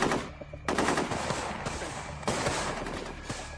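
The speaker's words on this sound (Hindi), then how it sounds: "मेजर अवस्थी की टीम काउंटर फायरिंग कर रही है" Machine gun counter-fire in an action movie battle scene, loud sustained automatic bursts broken by brief pauses, with sharp individual cracks cutting through the rattle.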